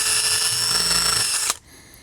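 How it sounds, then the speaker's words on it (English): A drill bit bores a hole in a composite deck board with a steady, loud grinding whine that stops abruptly after about a second and a half, leaving a faint residual hum. "So when you drill this hole, it's gonna put a little extra eased edge"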